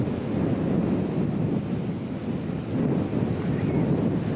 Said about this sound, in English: It's just always cold and windy here.